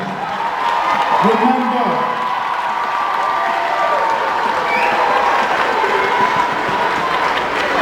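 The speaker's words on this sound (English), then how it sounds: "stand up as we applaud the class of 2011" A school crowd applauds and cheers the class of 2011 at a keynote speech, a steady wash of clapping with shouts and whoops rising over it, while a speaker's voice briefly cuts in.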